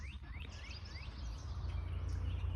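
Birds chirp and whistle in the distance, several short rising calls over a low steady rumble of outdoor noise.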